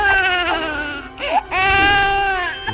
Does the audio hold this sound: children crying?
yes